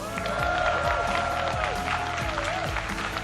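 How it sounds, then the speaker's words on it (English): An arena crowd at PAX West 2022 claps loudly and continuously, with a held musical tone and occasional thuds beneath the applause. "Give him a round of applause."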